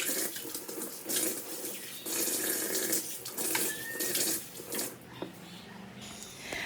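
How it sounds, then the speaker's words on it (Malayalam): A home wash basin is scrubbed under running tap water, with a close, hissing stream broken into uneven bursts as hands and the flow move over the basin. The water cuts off briefly near the end. "ഈ വാഷ് ബേസ് ഞാൻ ഡെയിലി കഴുകും"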